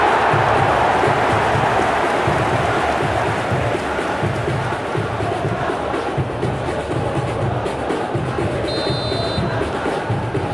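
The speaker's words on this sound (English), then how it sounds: "The crowd are calling for this to be put to bed." Football stadium crowd at an Indonesia versus Montenegro match, a dense steady roar of cheering with rhythmic chant-like pulses filling the whole stretch, loud and continuous with no break.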